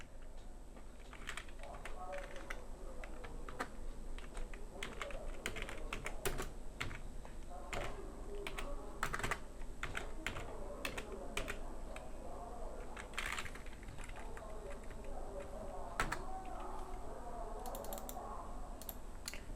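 Someone types a text prompt on a computer keyboard, with quiet, irregular key clicks in bursts and pauses over a faint steady background hum.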